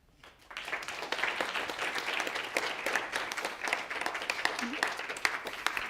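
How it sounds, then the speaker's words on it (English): Lecture-hall audience breaks into applause as a university lecture ends, a sustained, fairly distant wash of clapping that rises quickly and holds steady, with some voices mixed in. "Someone accused me of on YouTube of dubbing in applause at the end of my lectures."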